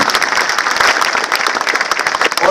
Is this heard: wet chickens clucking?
no